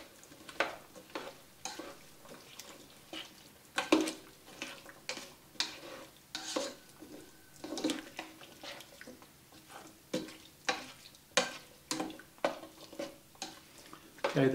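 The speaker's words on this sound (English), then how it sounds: "I'm going to give it a real good stir." A spoon stirring Mexican pinto bean soup with spices in a pot, giving repeated scraping and clinking strokes in a steady rhythm. The pot sizzles faintly underneath, and no one talks.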